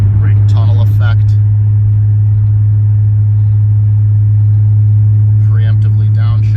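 The engine of a 1990 Nissan 300ZX opens up inside a tunnel, a loud, sustained low drone with a strong hum that echoes off the walls, while someone talks briefly at the start and end.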